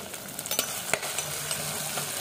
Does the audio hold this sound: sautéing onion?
yes